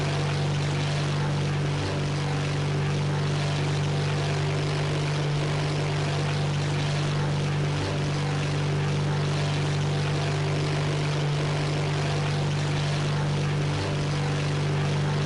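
A loud propeller aircraft engine drones steadily in the War Thunder video game, a constant low hum with a broad rushing roar on top, heard alone with no talking.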